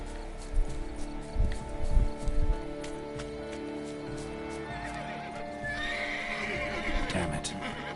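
Roach the horse in a video game gives several close whinnies and snorts with light hoof clops, then a quieter stretch with game ambience and a brief shrill effect near the end.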